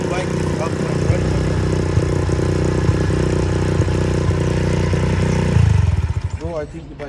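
A 125cc dirt bike engine runs steadily after a kick start, a close, loud mechanical drone with clattering texture that changes near the end as the revs shift and fade slightly.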